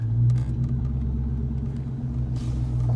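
A car on a test drive after a cold air intake install gives a steady, low engine rumble from inside the cabin, holding an even pitch with faint road noise and no talk.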